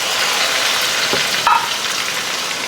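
Tomatoes frying in a hot pan, a loud steady sizzle filling the moment with a brief clatter of stirring partway through, close up and with no voices.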